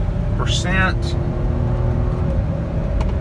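A 2007 Volvo XC90 accelerating moderately on an interstate, with steady road and engine noise filling the cabin and a brief burst of a voice early on.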